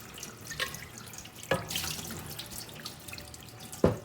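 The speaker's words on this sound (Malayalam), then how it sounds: "ഇനി ഈ ചട്ടി നമുക്ക് നന്നായിട്ടൊന്ന് കഴുകിയെടുക്കാം." A clay pot is washed under a running kitchen tap, with soft steady water flow and a few sharp splashes and knocks of the pot against the sink, fairly quiet and close.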